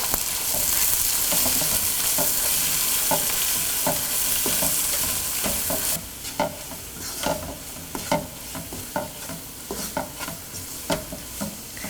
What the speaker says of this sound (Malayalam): മല്ലിപ്പൊടി, കാശ്മീരി മുളക് പൊടി, ഗരം മസാലപ്പൊടി എന്നിവയിട്ട് വഴറ്റുക.